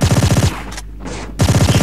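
The cleaner's gun in the video game Tomb Raider fires in rapid automatic bursts, loud and close, a brief pause splitting two strings of shots.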